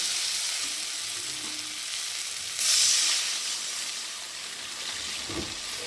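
Spice paste for a tilapia curry fries in a pan with a steady sizzle, then water pours in with a brief, louder hissing rush before the frying settles back to a low sizzle.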